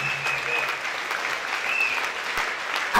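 A church congregation applauding, dense continuous clapping filling the space evenly, fairly loud, with a faint tone and crowd murmur underneath.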